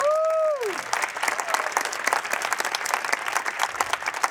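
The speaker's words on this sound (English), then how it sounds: "Let's give him a round of applause." An audience bursts into sustained applause at a concert band concert. Steady, dense clapping fills the hall after a brief tonal sound at the start.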